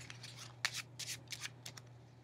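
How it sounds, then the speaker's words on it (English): A deck of playing cards rustles through a false overhand shuffle, several quick soft riffling bursts of card edges sliding, close and quiet over a low steady hum. "And then we're going to do a false overhanded shuffle."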